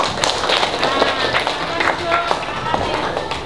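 Fourth-grade pupils in an elementary school classroom clap their hands together in a dense, steady patter that runs throughout, mixed with children's voices and a teacher talking.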